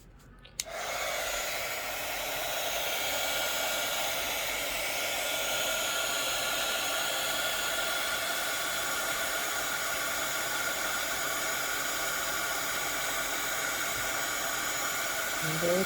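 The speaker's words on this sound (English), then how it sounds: "Get my heat tool again." Heat tool for embossing die cuts at a craft table, switched on after a brief click and blowing a steady, even airy roar that runs unbroken to the end, close and moderately loud.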